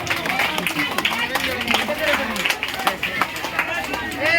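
People clap hands at a village Nuakhai festival gathering, a run of quick, uneven claps under loud overlapping voices and crowd chatter.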